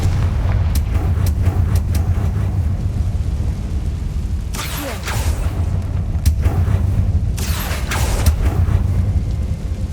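Several heavy blasts from the Confringo fire spell in Hogwarts Legacy burst loudly over a constant low rumble, with two bigger eruptions in the latter half and scattered sharp cracks before them.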